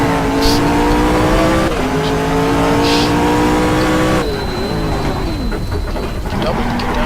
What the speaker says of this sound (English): slam on the brakes and then go down to first gear for Indianapolis here